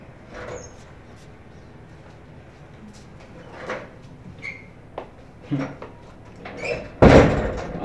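An indoor door is pulled shut with a sharp, loud slam near the end, after scattered soft knocks and rustles, with faint voices in the room.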